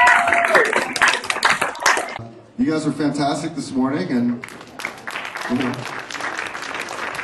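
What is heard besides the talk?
audience applause at a workshop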